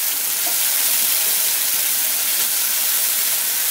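Green chillies and ginger-garlic paste hiss in hot oil in a pan for a keema Mughlai paratha, a loud, steady, dense sizzle running throughout with no voices.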